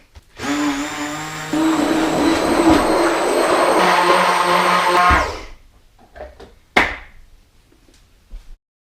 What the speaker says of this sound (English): it's time to blend. Using a stick blender